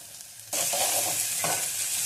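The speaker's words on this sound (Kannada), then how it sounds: "ಇವಾಗ ಕಾಳು ಹಾಕ್ತೇನೆ ನಾವು." Moth beans are dropped into a hot pan, setting off a sudden loud sizzle that then carries on as a steady frying hiss with stirring scrapes close by, no voices.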